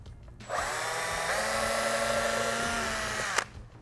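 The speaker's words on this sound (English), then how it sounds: "I will just go into the center of that crosshairs, get a couple bites in, and begin drilling" A power drill bores a pilot hole for a frame slider in a 2017+ Yamaha R6, spinning up abruptly into a steady high whine for about three seconds before cutting off with a short click.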